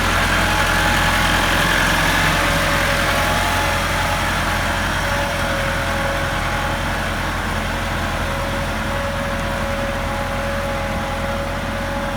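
A Massey Ferguson 375 tractor's diesel engine runs close by, a loud, constant idling drone with a deep low throb that never changes throughout.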